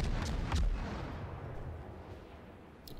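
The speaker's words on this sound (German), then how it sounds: "Er schießt hier mit AP immer volle Lotte drauf" Naval guns firing armour-piercing shells in World of Warships, the destroyer Farragut hidden in smoke: a heavy boom opens, then a long rumbling decay, with a faint later report.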